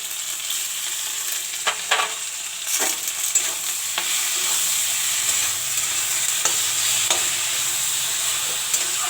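Garlic, mustard and green chilli fry in a pan with a steady close sizzle and hiss, broken by scattered scraping taps of a spoon stirring.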